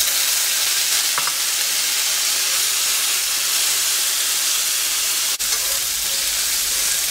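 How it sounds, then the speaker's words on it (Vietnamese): Chicken pieces stir-fry in oil in a hot cast iron pan over high heat, giving a loud, continuous sizzle and hiss with a brief clatter near the end. "Cái chảo gang này khi mà nó gặp dầu á và cái lửa nhiệt độ cao á, nó tạo ra cái hương vị thơm ngon lắm các bạn."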